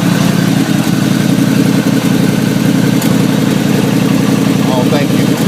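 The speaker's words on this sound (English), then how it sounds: "it sound loud, but I got a little exhaust leak back here on the other side" A 1989 Chevy Caprice engine idles loud and steady with the rough, puttering rumble of a small exhaust leak, running continuously up close without a break.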